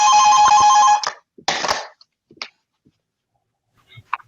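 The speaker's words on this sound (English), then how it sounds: "I've got to turn the phone off." A mobile phone rings loudly with a sustained electronic tone for about a second, followed by a short burst, then scattered faint clicks and handling noises as it is silenced.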